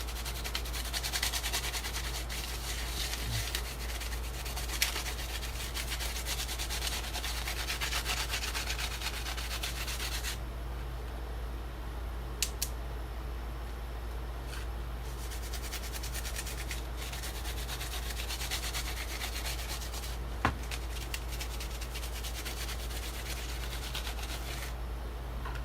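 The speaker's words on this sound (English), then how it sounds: "I'll do a little bit of sanding over here." Sandpaper rubs over a painted Jason hockey mask in a homemade Slade-style build, making a faint, steady scratchy hiss that runs on and off with short pauses and a few light knocks.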